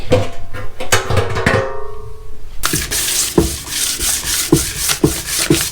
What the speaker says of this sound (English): Yeah, it sands pretty easily.